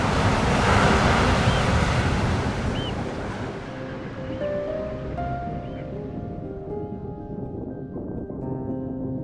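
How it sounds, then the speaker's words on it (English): Ocean surf in Iceland rumbles and hisses loudly, a wave breaking against cliffs then washing back, with wind noise and quieter lapping water as it fades. "enjoyed different views over the ocean and waves crashing onto the cliffs."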